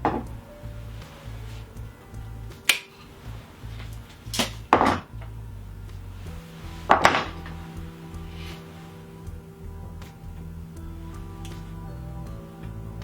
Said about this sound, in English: Just all that's left to do now is just cut the cable,